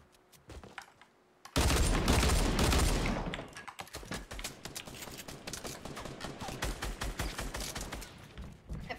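Sustained automatic gunfire in the video game Fortnite, loud and rapid with a dense burst after a short quiet start, then a continuing stream of quicker shots mixed with keyboard clatter.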